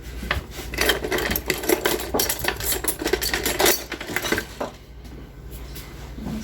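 Tortillas dipped in birria au jus and laid on a hot griddle, heard as close clattering, scraping and rubbing kitchen sounds with a steady sizzling wash, no talk.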